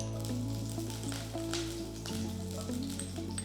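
Fenugreek seeds and green chillies sizzling in hot oil in a pan for fish korma, a continuous close frying hiss at even loudness with no talk.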